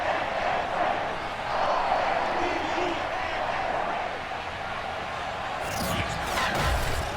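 Steady roar of a Baltimore stadium crowd in the Madden 22 video game as the Ravens and Titans emerge from their tunnels, a sustained cheering wash with a brief louder swell near the end.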